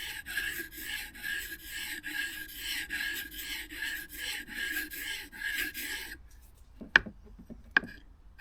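A wood chisel being rubbed back and forth on a sharpening stone, a rhythmic gritty rasping stroke repeated steadily and close, then a pause with a couple of sharp taps near the end.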